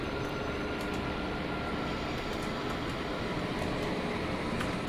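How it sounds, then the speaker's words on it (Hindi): A local train rumbles steadily nearby on the approach to Howrah station in South Eastern Railway territory, a continuous dense roar of wheels and carriages. "अच्छा सामने से एक लोकल ट्रेन आ रही है"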